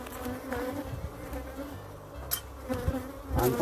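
Bees buzz steadily around an open beehive during an inspection, a close continuous hum with soft handling knocks and scrapes mixed in.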